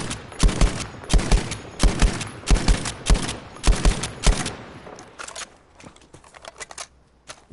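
A gun in Battlefield 5 fires in loud, close, rapid bursts of several sharp shots each, repeating in a steady rhythm before trailing off into lighter clicks and softer reports.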